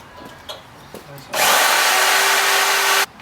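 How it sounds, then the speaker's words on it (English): A power drill bores into metal on a 1973-79 Ford F100 during a Crown Victoria front end swap, a loud continuous whine lasting under two seconds after a few light knocks. "Who'd have thought drilling was the worst fucking thing?"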